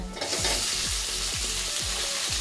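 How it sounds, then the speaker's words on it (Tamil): Onion, tomato and curry leaves sautéing in a pan for semiya kichadi, a loud continuous sizzle broken by regular rhythmic scrapes of a stirring spoon about every half second, close up with no talk. "கொஞ்சோண்டு கருவேப்பிலை நல்லா வதக்கிக்கணும்."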